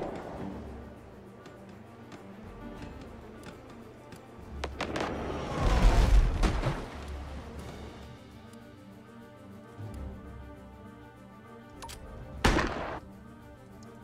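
Side guns on a sailing ship firing in the naval combat game Abandon Ship, a heavy booming volley in the middle followed by a lone later blast over a low rumbling ambience.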